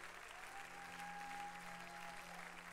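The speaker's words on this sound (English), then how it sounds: "Keep clapping." An audience at an evangelist church meeting claps steadily, a soft, even wash of applause with a sustained tone ringing through it.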